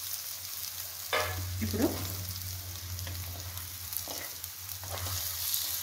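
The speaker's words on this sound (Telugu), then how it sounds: "నేను ఎగ్స్ అన్ని దీంట్లో వేస్తున్నానండి. ఇలా కట్ చేసుకున్నాను 2 halves." Halved boiled eggs fry in a pan for egg curry with a continuous close sizzle under a low steady hum, broken by a few stirring scrapes and brief bursts, while someone speaks briefly.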